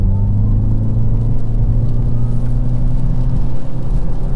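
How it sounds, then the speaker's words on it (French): A Toyota Corolla GR Sport with an e-CVT gearbox accelerates hard, giving a loud, steady droning engine rumble with a smooth whir that holds constant, heard from inside the car. "vous pourrez écouter le bruit de la boîte ECVT, épi-cyclo-idale à variation continue"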